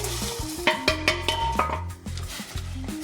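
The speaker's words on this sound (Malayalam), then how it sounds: "ഉള്ള വെള്ളം തിളച്ചു, നൂഡിൽസ് അതിലേക്ക് ഇടും." Maggi noodles go into a pot of boiling water, giving a busy bubbling, clinking and stirring mix with a steady low boil underneath and a few sharp knocks against the pot.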